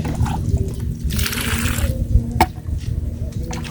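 Water poured from a bottle, a short splashing gush near the microphone amid faint background noise, ending abruptly.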